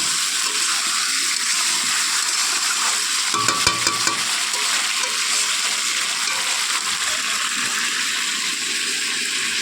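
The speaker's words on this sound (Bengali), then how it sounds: "কষিয়ে নিয়ে এখন আমি এই যে আলুগুলো দিয়ে দিলাম। এবার ভালো করে একটু কষিয়ে আমি জল দিয়ে দেবো।" Meat, potatoes and spices stir-frying in a pan, a loud dense sizzle that runs the whole way, with a brief burst of scraping and clatter from stirring partway through, no speech.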